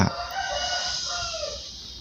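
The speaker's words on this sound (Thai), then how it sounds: "ไก่แม่งก็ร้องจัง" A chicken caught for boiling lets out one loud, drawn-out crow close by, with no talk over it.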